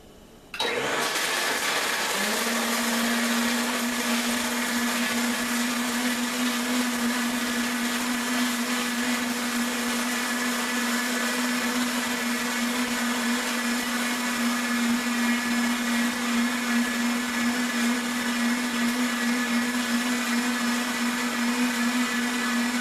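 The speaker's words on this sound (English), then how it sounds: "I'll show you the meter reading for each one as you listen to the blender run as well." An Omni 5 blender runs at high power in a noise comparison, starting abruptly and holding a loud, steady roar with a constant motor whine for over twenty seconds, close and without talk.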